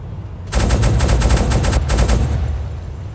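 Machine gun fire in the submarine game UBoat with a sound mod, a loud rapid burst of shots starting abruptly and rattling for about two seconds, then cutting off into a rumbling background.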